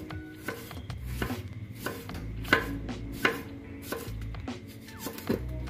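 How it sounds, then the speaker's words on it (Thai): A knife slices tomato and striped eggplant into a mortar for a spicy Thai pounded salad with chicken feet, giving close, irregular sharp taps and thuds against a board or rim, with no talking. "มะเขือเทศครับหั่นลงไปที่ครกเลยนะครับ"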